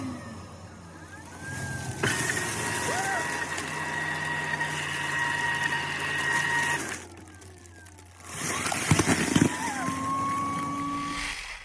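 A dry toilet's flush mechanism runs after its button is pressed, a steady mechanical whir with a tonal hum that shifts midway, drops briefly, then resumes, close and continuous with no talking.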